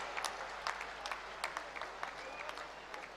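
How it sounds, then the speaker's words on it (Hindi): Applause at an honour ceremony for Indian Olympic women's hockey players, a thin, faint patter of scattered clapping from a small crowd with soft murmuring in the background. "जोरदार तालियां"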